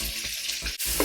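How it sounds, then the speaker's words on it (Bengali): Half a cup of chopped onion fries in a pan for a potato-chicken curry, giving a brief, steady sizzle with a short break; no voices. "আমি এখন ভেজে নিচ্ছি।"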